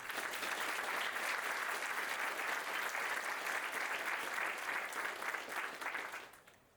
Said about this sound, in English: Please join me in a round of applause for their partnership.